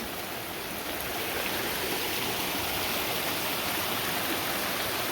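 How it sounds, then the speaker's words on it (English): A fast-running stream rushes beside a trail bridge on the Sheltowee Trace, a steady, loud broadband wash of water that continues without a break. "There's some nice running water, which I don't think is always this fast."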